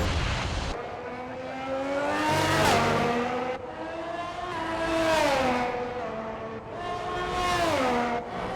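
An F1 race car engine in the F1 22 video game, Ferrari at the Azerbaijan Grand Prix, revs up and down in repeated rising and falling high-pitched whines, loud and close with no voices.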